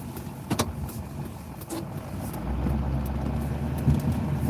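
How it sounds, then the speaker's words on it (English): A pickup truck plowing snow over packed dirt, its engine rumbling and rising as the tires slip, heard from inside the cab with a few sharp knocks and clicks. "truck's slipping now already because going back and forth on this just packs it down, and then the truck wants to kick out"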